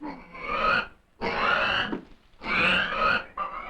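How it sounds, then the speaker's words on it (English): A pig grunts and oinks in three close, loud bursts of rough snorting with short gaps between, heard alone without talk. "A pig?"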